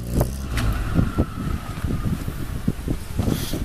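A Ford Escort with a straight-piped exhaust gives a raw, uneven rumble heard up close, with pulsing bursts and some wind noise.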